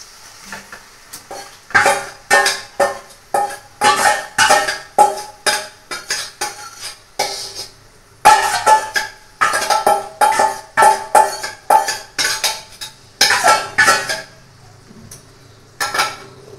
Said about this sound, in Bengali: এবার আস্তে আস্তে চিকেনগুলো দিয়ে দিচ্ছি